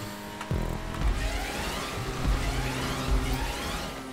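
Cars in a GTA 5 Online stunt race roar off after a sudden start, engine drone rising and falling with deep rumbling bursts, loud and close, no voices.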